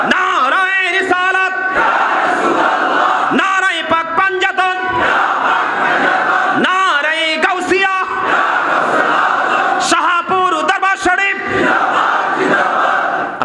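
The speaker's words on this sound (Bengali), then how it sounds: "আমি আপনাদেরকে বলি নারাই তাকবীর আল্লাহু আকবার" A large crowd chants the takbir at a religious gathering in Dhaka, repeated loud roaring shouts rising and falling in waves, with a speaker's voice leading between them.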